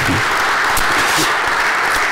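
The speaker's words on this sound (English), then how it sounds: "So shall we give a clap to Brother Samson as well?" A church congregation claps together during a service, giving a loud, dense burst of applause that continues without a break and has no speech over it.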